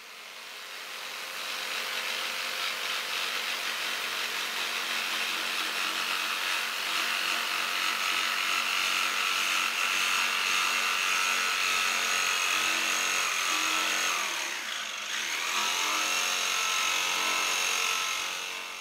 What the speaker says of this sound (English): I used my cheap jigsaw to cut out the design